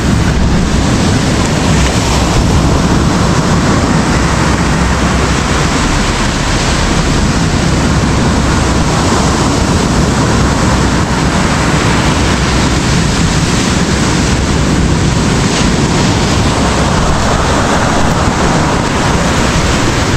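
Sea waves rolling onto the shore, a loud and continuous wash of surf with strong wind buffeting the microphone and slow swells rising and falling.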